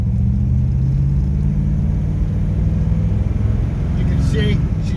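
A classic collector car accelerates along a country road, its engine a low, steady rumble close by from start to finish, with someone talking over it.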